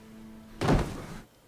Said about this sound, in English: So that's the trap door.